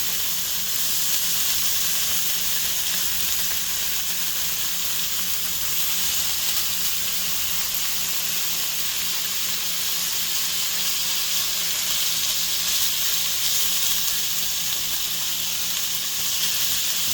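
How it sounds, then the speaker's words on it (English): Loud, constant sizzling hiss from bacon frying in a hot pan, steady and unbroken the whole time. "Listen to that sizzle. So the pan's nice and hot."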